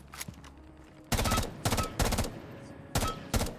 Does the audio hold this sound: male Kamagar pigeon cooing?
no